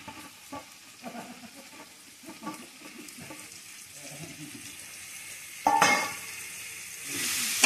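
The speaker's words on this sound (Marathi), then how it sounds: "आता टाकतोय कांदा मग मस्त की परतून घेऊया" Onion drops into hot oil in a pot on a clay wood-fired stove for village-style chicken biryani, setting off a sudden louder sizzle after quieter outdoor sounds and faint animal calls.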